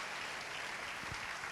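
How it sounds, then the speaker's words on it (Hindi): A church audience at a national prayer conference applauds, a faint, steady wash of many hands clapping heard from a distance for a brief moment. "एक बार भरपूर तालियां बजाइए भाई जमशेद जेरोम के लिए।"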